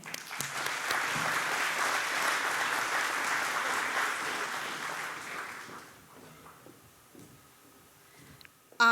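A luncheon audience applauds with steady, dense clapping for about six seconds before it thins out and fades, ending in a brief burst of noise.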